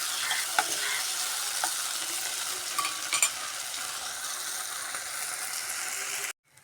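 Tomatoes sauté in a hot pan with a steady, bright sizzle and occasional spatters and stirring clicks, cutting off abruptly just before the end.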